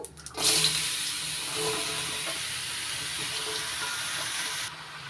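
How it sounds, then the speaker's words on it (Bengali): Chopped bottle gourd drops into a hot oil tempering and sets off a sudden loud hiss. The sizzle then carries on steadily before it eases near the end. "ফোড়ন হয়ে গেছে। এবার দিয়ে দিচ্ছি লাউ,"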